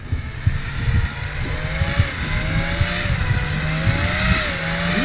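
Car engine revving hard on snow, Moskvich 412 or VAZ 2101, a loud close rising and falling engine whine with repeated revs throughout.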